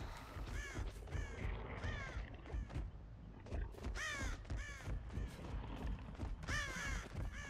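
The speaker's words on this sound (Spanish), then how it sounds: "Hay cuervos aquí" Crows caw repeatedly in the Dead by Daylight video game, harsh calls coming in scattered bursts over a low, rumbling ambient backdrop, fairly close and prominent with no talking.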